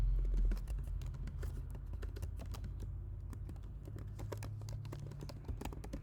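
Rapid, steady keystrokes clatter on a computer keyboard as code is typed, close and fairly quiet over a low background hum.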